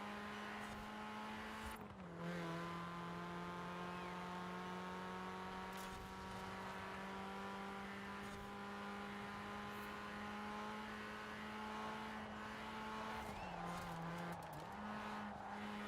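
A track car on its final lap climbing a hill, a steady strained engine drone held at high revs, with brief dips as the pitch drops around gear changes, faint and continuous throughout.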